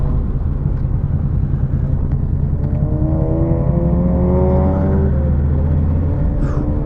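A Honda VFR800 motorcycle rides along a road, its engine a steady close rumble with wind noise, revs rising and shifting midway through; no talking.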